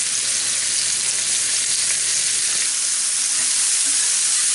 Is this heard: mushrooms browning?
yes